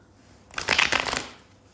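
Tarot cards are shuffled in a single brisk riffle lasting under a second, a close crisp flutter of card edges against quiet room tone.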